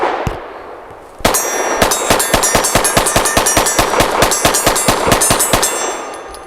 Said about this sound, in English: I'm going to aim at that same piece of steel, try to burn it down.